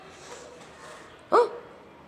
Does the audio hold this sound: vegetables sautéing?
no